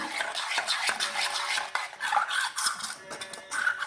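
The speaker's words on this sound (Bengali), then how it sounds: "এইভাবে ভালো করে মিক্স করে নেব।" A spoon stirs a mango yogurt mixture for homemade aam doi in a bowl, making a steady run of close scraping and clinking strokes against the sides with no voices.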